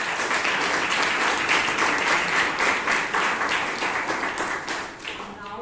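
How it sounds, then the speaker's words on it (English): Audience at a Bangalore Toastmasters club meeting applauding the table topics speakers: steady, dense clapping from a room full of people, sustained for several seconds before tapering slightly at the end. "let's give all the table topic speakers and table topic person a good round of applause"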